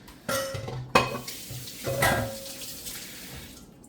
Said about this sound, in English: I'm just going to rinse my hands quickly